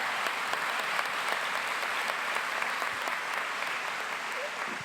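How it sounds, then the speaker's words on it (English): A crowd applauds the graduating class of 2017 at a Gann Academy commencement ceremony. The clapping is dense and sustained and holds at an even level throughout, with the occasional individual clap standing out. "Can I ask everyone here to give the class of 2017 a big round of applause?"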